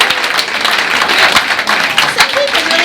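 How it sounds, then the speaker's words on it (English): Dense, steady clapping from a crowd at a volunteer dinner, loud and continuous with cheering voices mixed in. "give a round of applause to yourselves"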